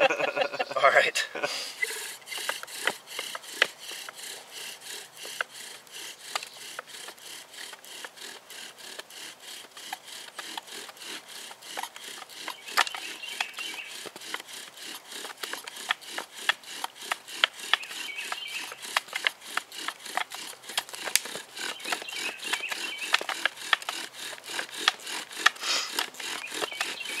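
Wooden bow drill worked without a knife for friction fire, giving a long run of rhythmic rubbing and sawing strokes, steady and fairly close, with brief talk and a chuckle near the start.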